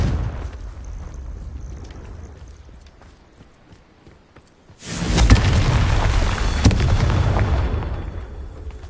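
In the Hogwarts Legacy video game, the Confringo explosive spell goes off: a quiet low rumble gives way to a sudden loud, deep blast about halfway through, followed by a sustained roaring, crackling wash that slowly fades.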